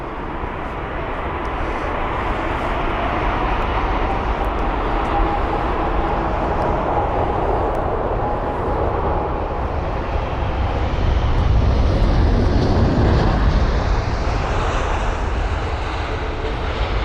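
A WestJet Airlines Boeing 787-9 jet at London Heathrow roars steadily and loudly, a broad engine rush that swells slightly toward the end, heard alone without voices.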